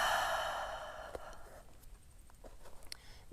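A long, soft exhale during a vinyasa yoga pose, breathy and close at first, then fading away into quiet with faint rustles.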